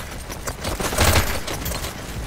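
An SMG fires in the futuristic VR shooter Hyperdash as a loud, rapid stream of shots lasting a couple of seconds, swelling in the middle.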